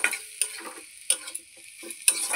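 Onion, garlic, ginger and coriander fry in oil, heard as a faint, quiet crackle with a handful of light clicks and utensil taps spaced irregularly across the short stretch, no voices present.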